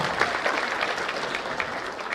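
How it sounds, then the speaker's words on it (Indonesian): An audience at a Setia Prabowo declaration event claps in a warm, continuous round of applause with scattered sharper claps, close and sustained. "Kita berikan tepuk tangan paling meriah untuk Setia Prabowo"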